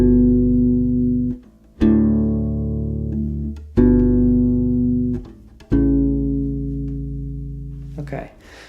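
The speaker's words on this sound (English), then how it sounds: "So the next 4 chords are going to sound like this." A U-Bass plays four sustained chords from Canon in D, each struck and left ringing before the next, clear and close with no voice over the notes.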